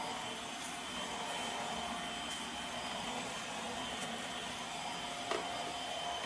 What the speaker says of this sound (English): So going to work on vacuuming.